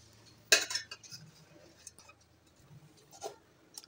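Metal cookware clinks as a pot of taro-leaf rolls is set inside a pressure cooker for steaming, one sharp clatter followed by a few lighter knocks and taps in a quiet kitchen.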